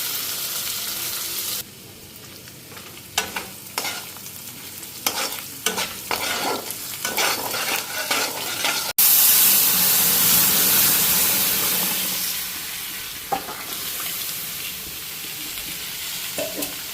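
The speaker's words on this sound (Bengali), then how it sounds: "মশলাটা ভাজা হইতে থাক।" Spice paste with shelled boiled eggs frying in a pan, a steady close sizzle with scraping stir strokes throughout, growing louder and hissier midway as the frying intensifies, no talking.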